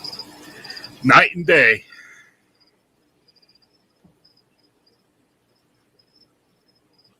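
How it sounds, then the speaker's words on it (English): Someone speaks briefly, then faint crickets chirp intermittently in the quiet background. "you got to deal with them damn crickets"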